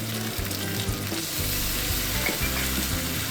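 Pork belly and thin potato slices stir-frying in a wok, a loud, dense, continuous sizzle with repeated scraping stirs, close and with no voices.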